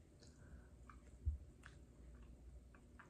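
Crunchy freeze-dried macaroni from a shepherd's pie being chewed close up, a series of faint, irregular crisp crunches spread across a few seconds with one firmer bite partway through.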